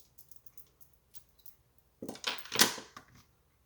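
Scissors snip through a small piece of card paper for a handmade embossed card, a short close burst of cutting after a quiet stretch of faint taps.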